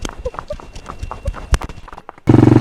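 A horse carries a first-time rider at Mount Abu, and its hooves thud irregularly on the ground nearby in soft, uneven clops. Near the end, a loud burst of buzzing, rumbling noise cuts in.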